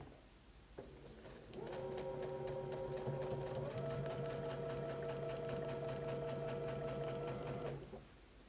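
A sewing machine stitches a quilt block, running as a steady, continuous mechanical whir with a rapid needle rhythm for several seconds, then slowing and stopping; no talking.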